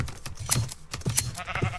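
Sheep in the Minecraft video game bleat a few times amid clicky, typing-like game noise, with the bleats at moderate volume and no voices.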